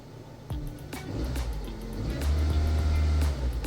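A 1.4 petrol engine in a Peugeot Partner/Citroen Berlingo with an ECU fault idles with sharp clicks, then surges on its own into a loud, sustained rev that holds near the end.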